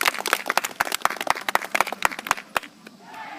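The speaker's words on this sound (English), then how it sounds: "Round of applause." An audience at a renaissance fair show gives a round of applause, dense clapping with scattered sharp claps and cheers that thins out and fades to quiet near the end.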